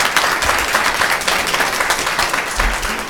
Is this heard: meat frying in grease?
no